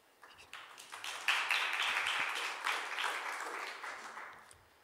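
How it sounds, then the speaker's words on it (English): A conference audience gives a burst of applause to welcome the speakers at a session on green-economy skills in Africa. The clapping swells quickly, holds for a few seconds and then tapers away, moderately distant in a large room. "Please welcome again our speakers with a loud applause"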